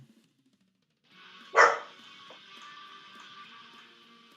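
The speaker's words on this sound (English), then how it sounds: "each time the neighbor dog is barking, my dog is also responding" A neighbour's dog barks once, followed by a fainter answering dog in the background, with a sustained hum of ambient noise after the bark.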